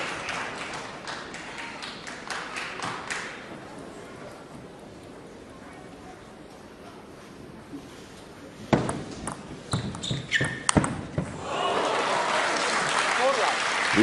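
Spectators at the 2016 Asian Cup men's singles table tennis final between Xu Xin and Zhang Jike clap in two bursts, one brief at the start and a longer swell toward the end, with a quiet hall and a few ball pings between.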